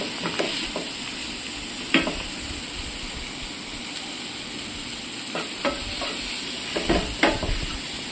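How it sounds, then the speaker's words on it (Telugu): Chopped tomatoes stirred and cooking in a hot pan for a paneer curry, a steady frying sizzle with occasional spatula scrapes and clicks, close and moderately loud, no talking. "ఇలా టమాటోస్ను చక్కగా మిక్స్ చేసుకున్న తర్వాత కొంచెం మగ్గనివ్వాలి."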